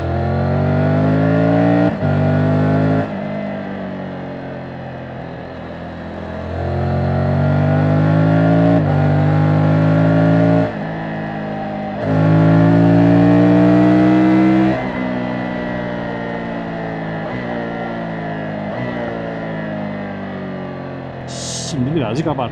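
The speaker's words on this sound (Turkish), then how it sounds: "sadece sele altındaki motorun sesini kaydeden mikrofonun sesini yayına vereyim" A motorcycle engine, recorded from under the seat, revs hard again and again, its pitch sweeping up and down through gear changes, loud and close with a dense mechanical roar.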